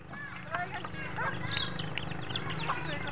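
Live hens cluck and squawk in a noisy crowd at a coconut fiesta, with a constant hubbub of voices and farmyard clatter filling the background.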